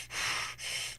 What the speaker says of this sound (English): The breathing on top of it feels like Extremely dramatic breathing too.